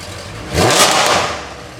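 A Supra's engine revs briefly to about 2,000 RPM on a cold start, one smooth rising-and-falling roar about a second long, close and loud.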